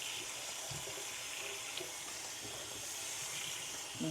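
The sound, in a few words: tap water running into sink, rinsing noodles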